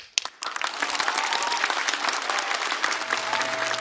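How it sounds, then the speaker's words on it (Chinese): An audience at a stand-up comedy show claps in loud, sustained applause that fills the room, starting after a couple of sharp claps and carrying on steadily to the end. "再次把掌声送给2位"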